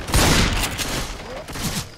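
A big gun fires in Left 4 Dead 2 during a swamp level, a rapid burst of loud, booming shots that trails off over two seconds, with faint voices in the background.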